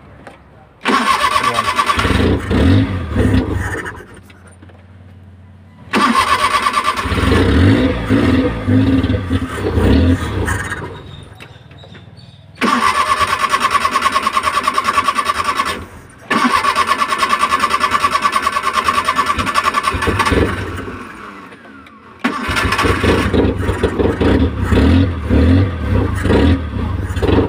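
A Suzuki Multicab engine, worked on after a spark plug cleaning, cranks and catches in four loud, close runs of rough, revving idle, separated by short quiet gaps where it dies out.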